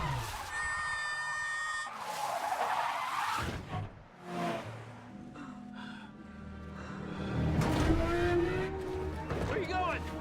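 A car drives and skids in a Lego video game, with an engine roar and tire squeals over music and effects, while voices talk throughout.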